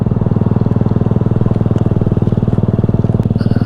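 Motorcycle engine idling close by with a loose throttle cable, a loud, even rapid thumping pulse that holds steady throughout, with no talk.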